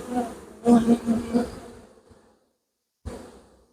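Honey bees buzzing close by at a hive, a few short swelling bursts of droning hum separated by pauses and near silence.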